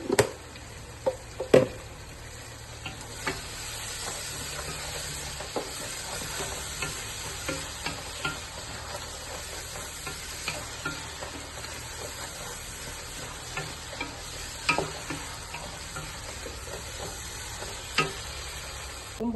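Mutton biryani masala being stirred in a pan, a steady close sizzle with frequent scraping and knocking of the spoon against the pan, continuous and without speech.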